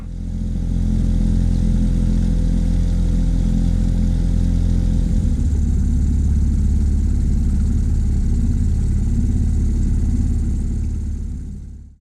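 An outboard motor on an inflatable boat on a Scottish loch idles steadily with a low, continuous engine rumble, holding an even tone for several seconds before cutting off.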